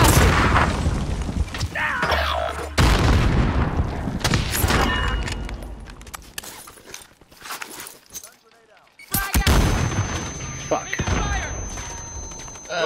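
Gunfire in the Warzone video game, dense bursts and booming shots mixed with thuds and movement, dropping to a quieter lull before loud action resumes, with a voice speaking over parts of it.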